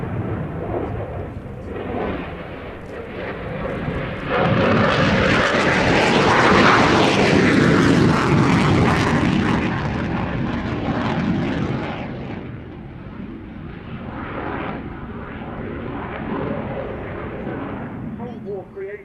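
A Cold War–era fighter jet roars past at the Royal International Air Tattoo, the engine noise swelling to a loud, rumbling peak midway and then tapering off, with a voice commenting underneath.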